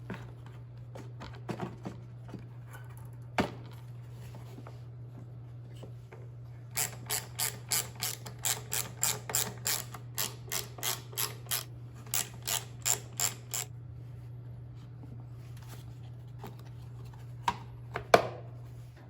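A ratchet wrench clicks in rapid bursts while tightening the four air box bolts on a Troy-Bilt TB110 push lawn mower, close and crisp over a steady low hum, with pauses between runs.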